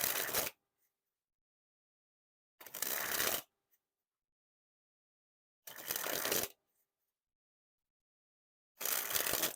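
Skelstrument playing cards sprung from hand to hand in four separate bursts, each a dense, loud riffling flutter lasting under a second, with silence between them.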